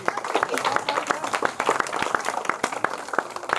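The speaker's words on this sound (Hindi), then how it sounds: "बच्चों खुद ही ताली बजाओ अपने लिए" Schoolchildren at an outdoor education campaign gathering clapping for themselves, sharp individual claps in an uneven rhythm, close and fairly loud, with voices talking over them.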